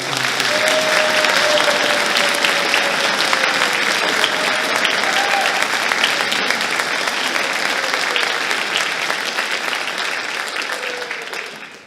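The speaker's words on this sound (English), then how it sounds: "How about a round of applause?" A concert audience at a high school spring orchestra concert applauds students leaving the stage, with sustained, dense clapping at a steady level for about twelve seconds before it begins to fade at the end.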